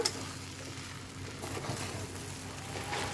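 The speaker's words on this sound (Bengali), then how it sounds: "একটু চিনি দিয়ে দিলাম দিয়ে ভালো করে নাড়াচাড়া করব" Spicy semolina with added sugar is stirred in a pan, producing a faint, soft sizzle with gentle scraping strokes of the spoon and no voices.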